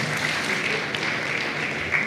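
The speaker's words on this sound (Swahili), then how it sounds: "naomba makofi mengi kwao." Steady audience applause at a human rights conference, even and moderately loud from start to end, with no speech over it.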